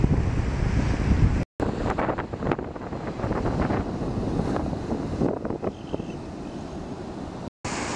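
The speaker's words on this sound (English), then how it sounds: "The tide is so high and the waves are getting really rough." Rough, high surf pounds a beach under a red-flag warning as gusty wind buffets the microphone, a loud, continuous roar of crashing waves with no voices.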